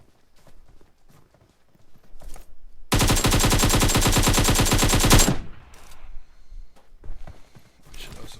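Rapid automatic gunfire in a video game, a loud dense burst of about two and a half seconds, with quieter scattered clicks and thumps before and after.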